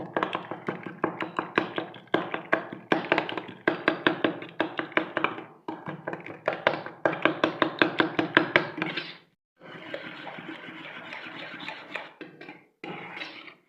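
Omelette egg mixture is beaten in a bowl with quick rhythmic strokes, a rapid clatter of taps against the sides broken by short pauses, near and alone.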